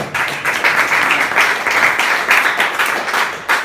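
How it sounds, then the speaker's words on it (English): An audience at a startup pitch night gives a round of applause, dense steady clapping from many hands that fills the room throughout, with a few brief voices mixed in. "Another round of applause for Linda."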